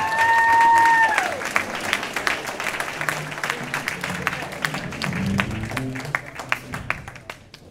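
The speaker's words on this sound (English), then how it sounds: "you better do a better job at applauding" At a high school jazz festival, a crowd applauds with dense clapping that swells and then fades toward the end, following a short sustained tone at the start.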